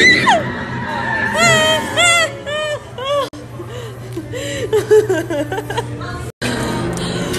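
Riders screaming and shrieking on a Disney ride, high excited voices rising and falling close by, mixed with laughter and chatter over a background rumble.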